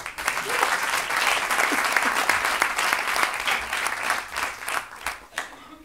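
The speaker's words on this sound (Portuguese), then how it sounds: "Uma grande salva de palmas para o Pai Natal" A theatre audience at a comedy roast of Santa Claus bursts into dense, sustained applause, loud and steady throughout before thinning slightly toward the end, with no talking over it.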